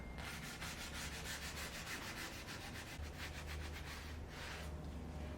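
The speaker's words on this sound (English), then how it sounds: "I'm going to go ahead and scrub the glue out of this gap" Glue is scrubbed out of a gap in a wooden bench hook in quiet, continuous rhythmic rubbing strokes, close and faint.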